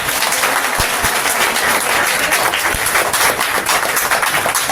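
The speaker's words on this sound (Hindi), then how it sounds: "हम सब की तरफ से जोरदार तालियां बजाकर" Vigorous applause from a gathering in a small temple hall welcoming a new state minister, thick steady clapping close and loud throughout with a few sharper individual claps standing out.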